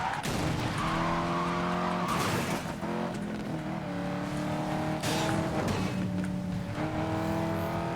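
Car driving in the racing game Need for Speed: Most Wanted (2012), a loud steady engine drone with rising and falling gear tones and occasional tire noise, continuous throughout with no talking.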